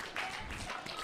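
A crowd at a pickleball pro doubles match claps and applauds, a brief, fairly distant wash of clapping.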